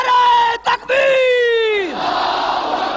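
A large crowd at a religious gathering shouting a slogan in unison, one loud sustained chorused cry falling in pitch and fading, after a lead voice calls out.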